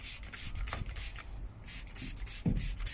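Cloth wiping a car door panel clean with degreaser, a soft steady rubbing with short scrubbing strokes, close and fairly quiet, plus one brief louder knock near the end; no talking.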